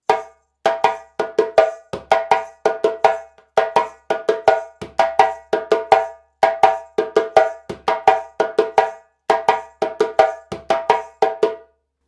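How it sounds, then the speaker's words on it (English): Djembe first accompaniment for the Guinean rhythm Fakoly, a repeating groove of crisp slaps and tones with occasional deep bass notes, loud and close, played alone with no talk. "Once we've got that, we're going to go straight into the first accompaniment."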